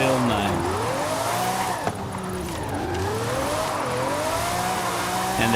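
A Lamborghini drifts in the video game Forza Horizon 5, played with a Fanatec steering wheel; the engine note rises and falls continuously as the car slides, with tire noise underneath and a player talking over it.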